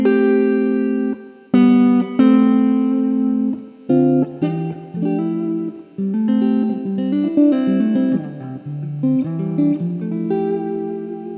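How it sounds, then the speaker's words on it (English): Electric guitar played through a NUX pedal with a plate reverb setting modelled on the EMT 104, loud sustained chords and single notes ringing out with a smooth reverb tail between phrases. "A plate reverb based on the EMT 104, which is one of the most popular studio reverbs ever."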